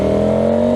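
A KTM Super Duke motorcycle engine drones steadily and loudly on the road, holding an even pitch through a very short stretch.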